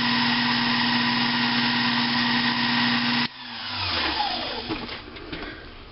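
A Sherline lathe cutting a venturi sleeve for an IHC engine runs steadily with a constant motor whine, then stops abruptly about halfway through, leaving quieter clatter and handling noises.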